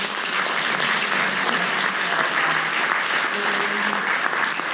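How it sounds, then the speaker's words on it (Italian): Audience applause at an Italian organ donation conference in Vicenza, a steady, dense wash of many hands clapping throughout, with a faint voice murmuring briefly underneath. "un bel applauso per Tania"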